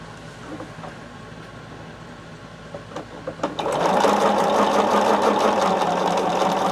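A close sewing machine runs while quilt fabric is pieced together, first with quiet handling and a few clicks, then kicking into a loud, steady, rapid whir that continues without a break.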